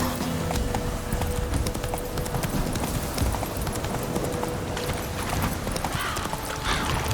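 Roach the horse galloping in The Witcher 3, a fast, steady run of hoofbeats that stays loud and close throughout, with a brief whinny partway through.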